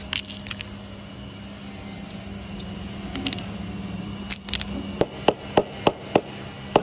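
Sharp knocks struck on a rough jadeite boulder during stone cutting, a few light taps early on, then a clear run of five or six evenly spaced loud raps near the end over low steady machine hum.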